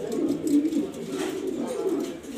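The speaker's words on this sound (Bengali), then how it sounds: "দেখার মতো কবুতর সবকটা ইনশাল্লাহ।" Pigeons in a loft in Mirpur, Dhaka, coo in low, rolling repeated calls close by, with faint voices in the background.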